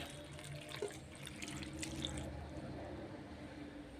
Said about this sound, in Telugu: ఒక గ్లాస్ వాటర్ ఈ గ్లాస్ వాటర్ వేసుకుని